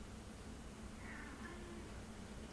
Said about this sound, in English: y'all will hear her meow